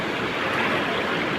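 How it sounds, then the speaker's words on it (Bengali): Ocean waves break at Puri beach at dawn, a steady broad rush of surf that fills the moment with no voices. "বড় ঢেউটা তো ভেঙেই গেল মাঝখানে।"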